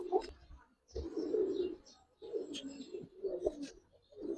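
Pigeons coo in repeated soft, throaty bursts with short pauses between calls, close by and fairly quiet, with faint chirps and no talking.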